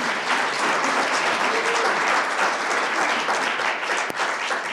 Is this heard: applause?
yes